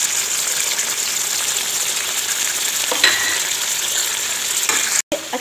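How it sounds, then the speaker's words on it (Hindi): Ginger garlic paste fries in a pan of chicken for a desi-style korma, a steady close sizzle and crackle running throughout with a few stirring scrapes, then a brief break near the end. "अब हम इसमें अदरक लहसुन का पेस्ट डाल देंगे।"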